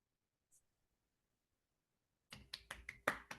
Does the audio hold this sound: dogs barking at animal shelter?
no